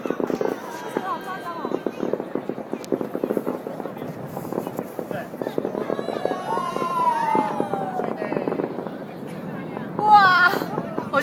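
New Year's Eve fireworks burst above a company building's rooftop in 2010 as a continuous volley of crackling pops and bangs. Excited voices chatter close by throughout.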